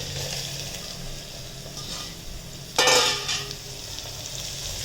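Ridge gourd tipped into a hot pan with ginger, garlic and chilli paste gives a sudden loud sizzling burst over a steady background fry, which then settles back to a softer crackle as the pieces are stirred.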